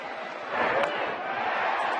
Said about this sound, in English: you hear the crowd cheering